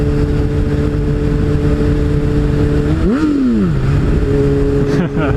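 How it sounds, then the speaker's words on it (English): Honda CBR600RR motorcycle engine idling steadily, then revved twice as the throttle is twisted, the pitch rising and falling in quick sweeps near the end, loud and close. "Twisting the throttle, going vroom vroom."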